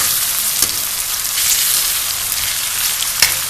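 Pointed gourd (potol) frying in plenty of hot oil, a steady close hiss of sizzling with a couple of faint scrapes from stirring, no voices.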